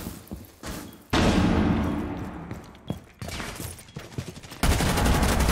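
Gunfire in a video game comes as loud bursts of rapid shots separated by short pauses, with thuds and clatter in between and no talk over it.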